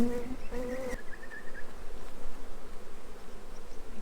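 Honey bees hum around an open backyard hive during a spring inspection, a close, continuous buzz with a few brief louder passes early on.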